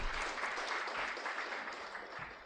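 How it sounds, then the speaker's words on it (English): A room full of people clapping at an NGO symposium, a dense, even patter of many hands sustained from start to end, somewhat distant and soft with no voices on top. "clap for the online viewers, clap for them."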